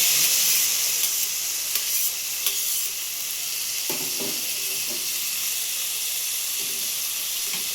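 Tomatoes sizzle in a hot pan for a village-style palak paneer, a steady loud hiss running throughout with a few soft clicks of stirring scattered across the middle and end.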